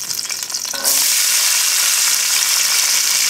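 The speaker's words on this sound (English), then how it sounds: "And now we will put in the garlic." Garlic drops into a hot pan, and the frying jumps to a loud, steady, close sizzle that holds evenly after a brief clatter and quieter stirring.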